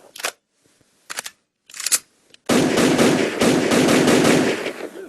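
Gunfire in an Unreal Engine 5 game: a few short separate shots, then a loud, sustained rapid burst of automatic fire that continues to the end.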